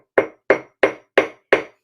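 A hammer cracking beach agate rocks strikes five times in an even, steady rhythm, each blow a sharp, loud, close knock that dies away quickly, with silence between hits.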